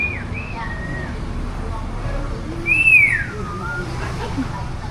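A bird in Vietnam gives loud, sliding whistled calls, one rising and falling sharply in the middle, over steady background hum and murmur.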